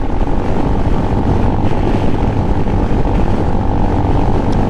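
A Venom X22GT 250cc automatic motorcycle rides along a freeway with a 65 mph limit, producing a loud, continuous engine drone mixed with rushing wind that holds steady the whole time, with no speech.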